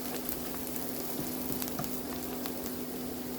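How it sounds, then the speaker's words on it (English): Garlic frying in a pan with mushroom and chicken, a steady bright sizzle with small crackles and pops throughout, close and even. "after a minute, let's add our garlic. Fry until it releases the aroma."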